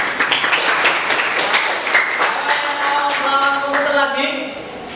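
Audience applause: a continuous patter of many hands clapping at an even level, with a voice speaking over the last stretch as the clapping thins out.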